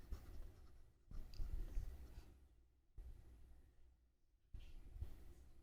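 Pen or marker writing given values onto a geometry figure for a parallel-lines practice problem, heard as quiet scratchy strokes in a few bursts separated by short pauses, with no talking.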